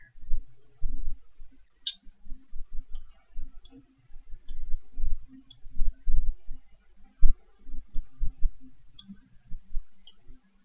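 A computer mouse clicking while building a transpose table in software: sharp, light single clicks spaced a second or so apart, close and fairly faint, over low thumps and handling noise.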